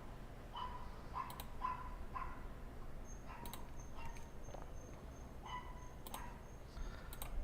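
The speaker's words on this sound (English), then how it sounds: "I apologize for the dog that's barking outside" Dog barking and yapping outside, distant and faint, with several short sharp yaps scattered through a steady background hiss.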